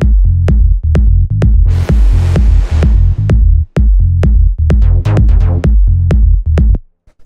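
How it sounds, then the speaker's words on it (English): A fat melodic techno kick drives the low end of a 128 BPM tech house loop. It thumps loudly and steadily in a four-on-the-floor pattern, with a brief sweep and short drops midway, and ends abruptly. "this is actually a melodic techno kick"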